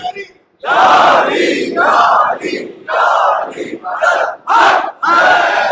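A crowd at a Shia majlis mourning gathering marking the martyrdom of Imam Hassan shouts a religious slogan in loud, forceful unison, in repeated bursts of about a second each with short gaps between them, close and filling the space.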